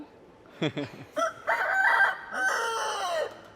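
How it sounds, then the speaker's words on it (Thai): A rooster crows inside the Batu Caves temple in Malaysia, one drawn-out call near and clear, with an answering crow and brief clucks from other chickens around it in the echoing cave. "มันขันรับกันไงลุงเออตรงนี้ร้องตรงนู้นตอบไง"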